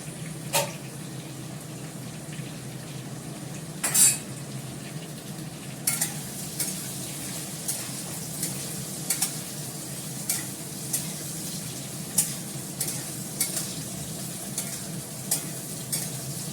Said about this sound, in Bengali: দেখো আলুটা এর সঙ্গে ভাজা হয়ে গেল